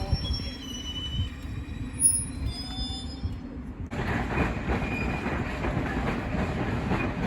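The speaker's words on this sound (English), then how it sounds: "And now departing is the 12:23 District Line service from Ealing Broadway to Upminster." A London Underground District Line train departs Ealing Broadway: a quiet platform with faint high wheel squeals, then a sudden swell of rolling rail noise that stays steady and fairly loud as the train pulls away.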